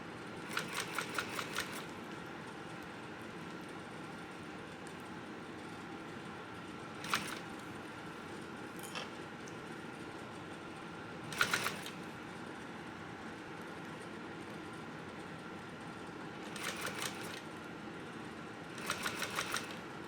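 A sewing machine stitches a bucket backpack in several short bursts of fast, rattling needle strokes, separated by long quiet pauses, close and soft.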